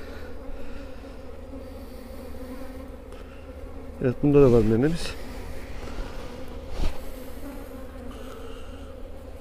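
Honey bees buzz softly around an open hive during an inspection, a low steady hum with a brief louder burst near the middle, while someone speaks a few words in Turkish.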